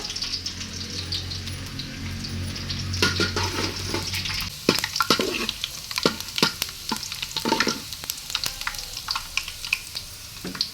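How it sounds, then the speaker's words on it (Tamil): Chopped garlic sizzles and sautés in a pan for egg rice, with steady frying crackle and repeated sharp scraping clicks of a stirring spoon against the pan, close up and without talk. "பூண்டு சேர்த்து பூண்டு நல்லா வதங்கணுங்க"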